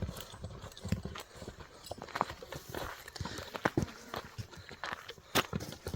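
Horse hooves clip-clop steadily on the ground as an ulak-bred horse walks, the irregular hoof strikes close and clear, with occasional faint voices in the background.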